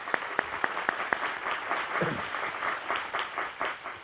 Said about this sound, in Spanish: un aplauso para Carmen.